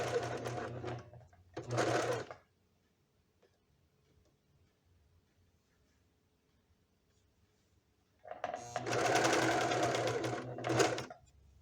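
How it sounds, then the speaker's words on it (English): A serger sewing machine whirs in two short bursts, then after a long quiet gap runs a longer stitching pass, buzzing rapidly and close up as it sews slippery blanket fabric into a house robe. "I'm gonna go on the serger, and I'm gonna connect all around both"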